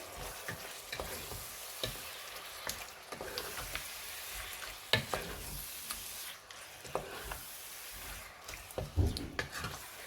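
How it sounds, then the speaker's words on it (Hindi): Small boneless meat pieces for a restaurant-style salan fry with spices and crushed red chilli, stirred in the pan: a soft, low sizzle broken by irregular scraping and stirring knocks, fairly quiet throughout. "इन सारे मसालों को हम अच्छी तरह से इसके अंदर मिक्स कर लेंगे।"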